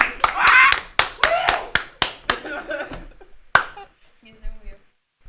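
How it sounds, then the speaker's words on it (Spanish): A short burst of hand clapping from a small group, quick sharp claps that thin out and fade, followed by a brief soft voice. "Sí, pueden aplaudir."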